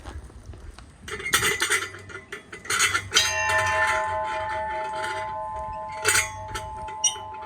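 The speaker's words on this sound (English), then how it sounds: "Let's ring that bell." A bell in Akkeshi, eastern Hokkaido, is struck a few times, each ring rising loud with shimmering metallic overtones and a long sustained hum fading between strikes.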